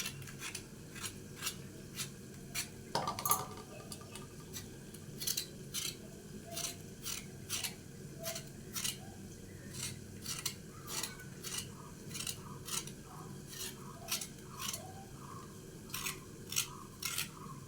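Pointed gourds (potol) being scraped with a knife make a steady run of short, crisp scratching strokes about one per second, quiet and close, with a single louder knock early on and no talk.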